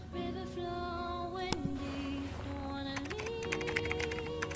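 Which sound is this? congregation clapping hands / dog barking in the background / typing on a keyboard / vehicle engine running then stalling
typing on a keyboard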